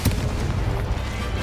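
Incendio fire spell cast in the video game Hogwarts Legacy, a dense rumbling burst of flame that starts with a punchy hit and roars on steadily for over a second, loud and close.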